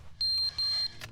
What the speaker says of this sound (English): Stop beeping.